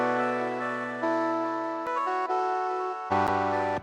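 An FL Studio synth melody with light reverb and a crystal choir effect under a low cut plays a few sustained, stepping notes, then a lower chord enters near the end, moderately loud with no voices.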